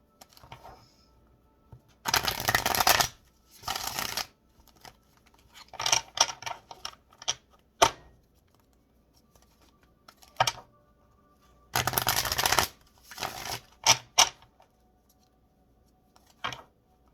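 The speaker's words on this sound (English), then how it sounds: "So let's get a few cards." Tarot cards are shuffled in several short riffling bursts separated by quiet pauses, with a few lighter taps and flicks of cards between them, close and fairly soft.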